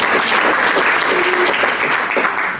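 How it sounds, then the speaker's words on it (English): Steady applause from an audience at a provincial education engagement event, dense clapping heard continuously and fairly loud. "can you applaud them as they are here with us?"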